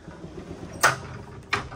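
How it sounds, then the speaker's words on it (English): A pocket door in the bedroom of a 2022 Entegra Aspire 44W Class A diesel motorhome slides twice, two short rolling swishes about a second apart, close by in a quiet room. "You've got some nice pocket doors."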